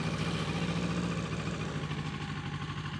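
A 2026 CF Moto 700MT motorcycle with a cable-operated throttle and 270-degree crank parallel twin idles steadily, a close, even, throbbing low rumble with a regular pulse and no talk.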